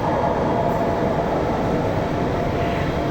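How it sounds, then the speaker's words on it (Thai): Steady low rumble of a departing train moving along the rails at Zurich Airport railway station, Switzerland, a constant mechanical roar with no voices. "the train is about to depart."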